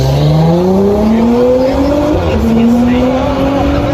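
Audi S5 with a V8 engine revving loud and close, its pitch climbing in long smooth pulls with a brief shift midway, no voices over it.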